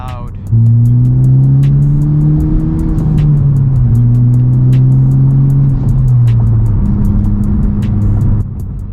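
Honda Civic Type R fitted with a MAPerformance Street Edition exhaust revs loudly and steadily, its engine note climbing and dropping across several rev sweeps, close and continuous with speech-like chatter over it.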